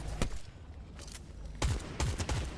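Rapid bursts of gunfire from the video game Fortnite crack out in quick clusters, a few sharp shots followed by faster volleys, moderately loud with no talking.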